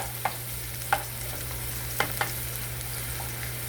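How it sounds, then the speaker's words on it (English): Peppers fry in a pan with a steady close sizzle and a low hum beneath, punctuated by a handful of sharp utensil taps and scrapes as the pan is stirred, with no one talking. "Meanwhile, this is getting a little fried up, let me add the onion as well."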